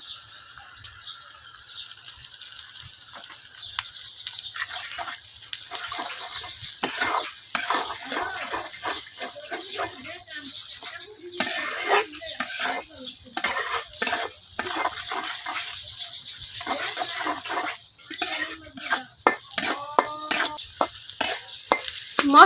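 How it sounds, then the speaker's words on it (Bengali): Eggs frying with onion and spices are stirred in a pan for a long stretch, a steady sizzle under repeated scraping and clinking of the utensil against the metal, with no voices. "মশলার সাথে আমি কিন্তু ডিমটা খুব ভালোভাবে মিশিয়ে নিচ্ছি"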